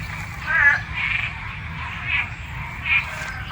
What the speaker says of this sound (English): All those are frogs. You hear that?